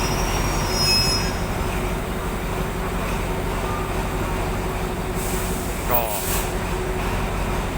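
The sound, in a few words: train 352 arriving at Taling Chan Junction station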